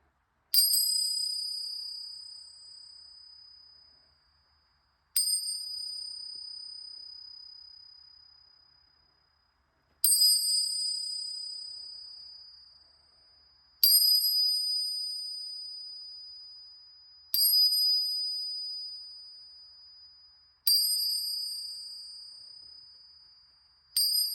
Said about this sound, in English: In a moment, you're going to hear me do some chimes to help clear out energy.